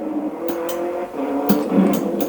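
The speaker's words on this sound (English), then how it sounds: "I love the engine sounds." A rally car engine in a video game on the Evercade revs and drones close up, with repeated sharp bursts and skids as it corners.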